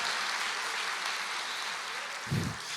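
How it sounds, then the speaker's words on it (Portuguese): A church congregation claps steadily throughout, a broad wash of applause heard from the room, with a brief low thump near the end. "Pode aplaudir, se expressa, vai para valer, meu irmão."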